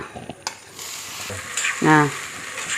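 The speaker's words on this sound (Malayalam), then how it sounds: "നെയ്യിട്ടിട്ട് പഴത്തിന് അരിഞ്ഞത് നല്ലോണം വാട്ടിയെടുക്കുക" Chopped banana fries in ghee in a pan for a sweet wheat ada, a close steady sizzle broken by stirring scrapes and a few clinks of a spoon against the pan, with no talk.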